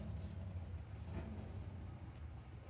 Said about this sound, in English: And I hear race cars.